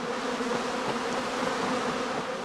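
Honeybees swarm at a heather skep apiary, a dense, steady, loud hum of many wings that fills the air throughout without a break.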